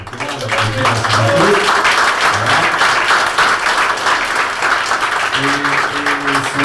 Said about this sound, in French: qu'on peut applaudir un petit peu aussi